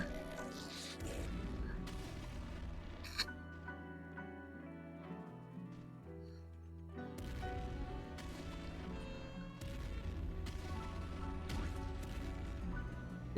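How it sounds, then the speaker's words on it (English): Heavy in-game nuclear explosions in the wasteland shooter Nuclear Throne, with repeated loud crashing booms over a busy, chaotic game soundtrack. "I'm just enjoying some nice big nuclear explosions here as I cause extreme chaos in this wasteland"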